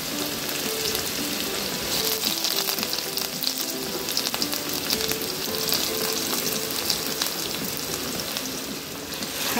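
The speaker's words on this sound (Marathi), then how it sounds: "हा कांदा मी आता असा परतून घेणार आहे" Sliced medium onion sautéing in hot oil with mustard seeds and cumin, a dense, loud, crackling sizzle that holds steady throughout with faint stirring, close up and without speech.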